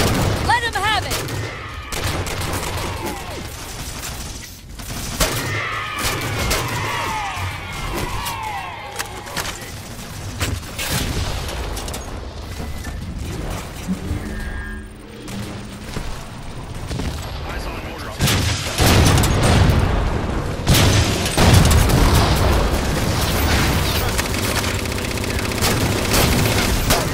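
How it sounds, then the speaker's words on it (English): Rapid gunfire and heavy explosions from a Halo 4 firefight on Legendary difficulty, dense and continuous bursts with booms throughout, loud and close, with occasional radio-style voices mixed under the combat. "Contact ahead. On the target. Weapons free, Chief."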